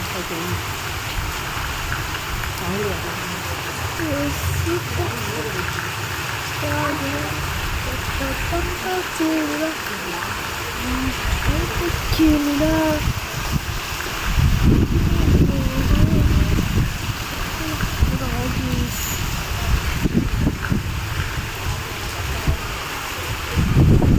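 Heavy cyclone rain and gusting wind in Pondicherry roar as a dense, continuous wash of noise, loud throughout and surging stronger midway, with buffeting wind against the microphone.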